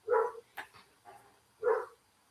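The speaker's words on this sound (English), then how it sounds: "I don't know what the dog's barking about." A dog barks twice, with a short whimper and yip between the barks, heard from a moderate distance in an otherwise quiet setting.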